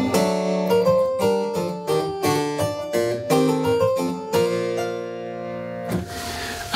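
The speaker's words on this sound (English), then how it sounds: "If I play it with no ornaments at all, it sounds like this." Italian virginals playing a corrente passage plainly without ornaments, a plucked keyboard with crisp note attacks in a lively dance rhythm, close and clear, ending on a held chord.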